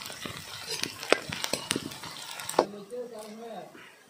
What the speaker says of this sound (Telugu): కరేపాకు వేసుకొని ఫ్రై చేసుకున్నాం